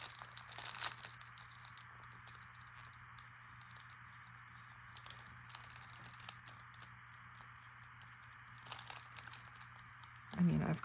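A glassine envelope held shut with a small butterfly sticker is eased open by hand, giving faint, sparse crinkles and soft papery rustles, with a louder crackle near the start and another at the end.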